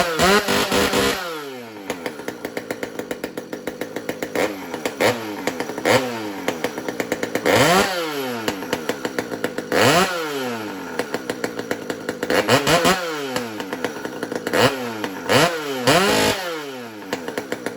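Husqvarna 575XP chainsaw fitted with a straight pipe exhaust, loud and close, revving repeatedly in sharp bursts between a crackling idle, with no one talking.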